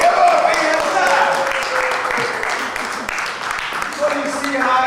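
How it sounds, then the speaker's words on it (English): An audience of senior citizens at a theatre performance applauds a storyteller with scattered clapping under murmuring voices, loudest at the start and then fading. "Give her a big hand clap."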